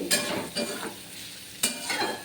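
Pumpkin shreds frying in a pan with turmeric and chili powder, a soft continuous sizzle punctuated by a few brisk spatula scrapes and stirs, close up and with no voices.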